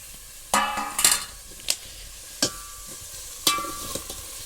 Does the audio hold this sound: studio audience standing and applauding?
no